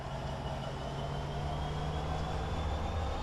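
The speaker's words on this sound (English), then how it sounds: "First, watch the train ahead pull forward" A train pulling forward in Train Simulator 2015, a steady low rumble with a sustained engine hum that holds evenly throughout, with no talking.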